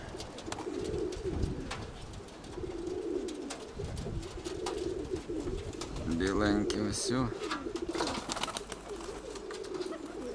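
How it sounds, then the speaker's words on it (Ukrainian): Soft coos from a grey hen pigeon repeat nearby among rustling and bird movement, with someone talking briefly over them. "Мабуть, то голубка сіра."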